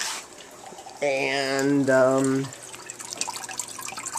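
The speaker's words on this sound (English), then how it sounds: "you can see the water ripples as the, you know, it's trickling down" Water trickles from a homemade turtle tank filter in a soft, steady wash beneath a person speaking close by.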